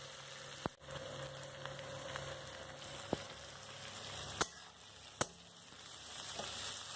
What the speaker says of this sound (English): It should stir well and frying until the onions and garlic become golden brown.